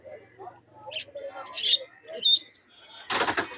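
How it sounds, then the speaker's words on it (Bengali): Two domestic pigeons are let go at a large pigeon market in Khulna, Bangladesh, soft coos and chirps giving way to a sudden loud flurry of flapping wings close by at the end. "আমি কবুতা দুটো একটু ছেড়ে দেখাই"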